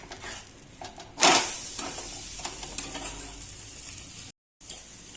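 Green pea snack being flipped in a greased pan, a sharp scrape and clatter followed by steady close sizzling that continues to the end, briefly cut by a gap of silence.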